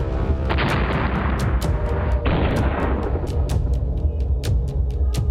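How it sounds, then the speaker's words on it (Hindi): Bombs and rockets fired in a battle between Taliban fighters and Afghan forces make a dense, rumbling barrage, followed by a run of sharp, repeated bursts, loud and continuous. "चारों तरफ से बरसते बम बारूद और रॉकेट।"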